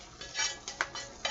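Sausage and pinto beans drop into a cooking pot with a few soft clatters and light splashes, quick and close, with faint metallic pot sounds and no voices.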